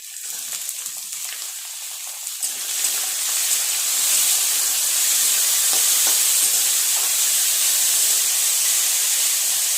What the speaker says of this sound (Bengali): বিনস গাজর সব একসাথে দিয়ে ভালো করে ভেজে নেব।